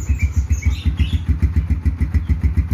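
A 2007–2008 Yamaha Scorpio Z motorcycle idles smoothly from its exhaust, a close, even, loping putter of regular low thumps repeating throughout with no talk.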